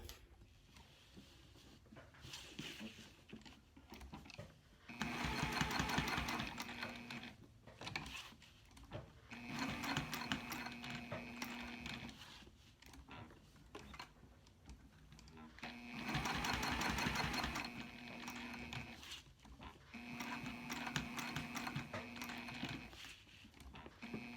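A home sewing machine top stitches a tag onto Sileather fabric, running in several bursts of rapid mechanical stitching with pauses between, close up, with speech heard around it.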